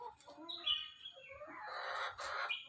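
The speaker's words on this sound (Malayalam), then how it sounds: "ഇവിടെ പ്രായത്തിലെ ഏറ്റവും ചെറിയൊരു കോഴിയാണ്." The youngest, smallest hen of a flock gives soft, high clucks and a longer drawn-out call, faint and somewhat distant, with no talk over it.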